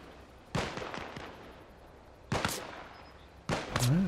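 Enemy gunfire in a sniper video game: three sharp, separate shots spaced over about four seconds, loud and close against a quiet background, with no talking.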